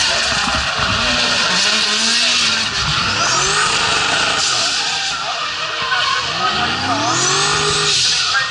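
A 1,000-horsepower supercharged V8 race car at a circuit roars flat out, its engine note rising and falling through gear changes with tire squeal mixed in, loud and continuous, with voices under the noise.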